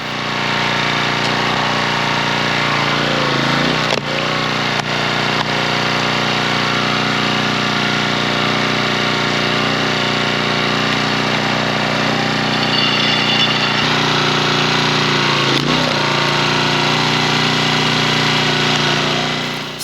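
A Champion 7 ton log splitter runs steadily and loudly the whole time, its engine droning with brief load changes around the fourth and fifteenth seconds, no voices over it.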